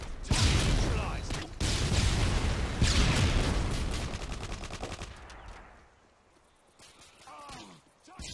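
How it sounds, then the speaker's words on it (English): Stun grenades and gunfire in the shooter game Call of Duty: loud dense rapid bursts of fire and blasts up close that fade out into quieter scattered sounds. "Throwing stun grenades."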